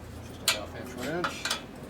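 A half-inch wrench clinks against the muffler bolts of a 2001 Gilroy Indian Chief motorcycle being rebuilt as a race bike. A few sharp, close metallic taps ring out, with a voice briefly murmuring underneath.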